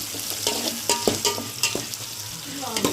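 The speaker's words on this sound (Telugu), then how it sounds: "పచ్చిమిర్చి వేసుకొని బాగా ఫ్రై చేసుకోండి" Green chillies fry with onions in a pan. A close, steady sizzle sits under repeated rhythmic scrapes and clinks of a spatula against the metal, and nobody speaks.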